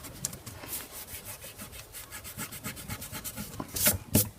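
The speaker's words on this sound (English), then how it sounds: "you can now see where the shape is if I rub out these guidelines" An eraser rubs out pencil guidelines on paper in quick, repeated back-and-forth strokes, close and crisp, growing slightly rougher toward the end with no voices.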